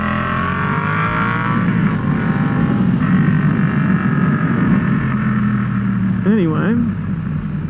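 A Yamaha XSR700 motorcycle engine drones at low, steady speed while a rider talks over it, with a brief rise and fall in pitch near the end.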